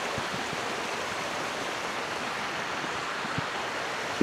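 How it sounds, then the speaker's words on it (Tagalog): A series of mini waterfalls on a forest river in Ternate, Cavite, giving a steady close rush of water, with faint knocks and taps scattered beneath. "Series of falls. Series of mini falls."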